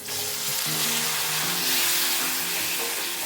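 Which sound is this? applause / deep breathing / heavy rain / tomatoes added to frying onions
tomatoes added to frying onions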